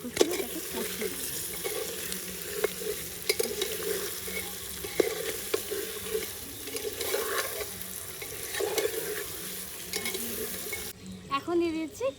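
Spiced chicken sautéing in a pot, a continuous sizzle with irregular stirring scrapes and knocks throughout, close and moderately loud, ending in a brief quieter stretch.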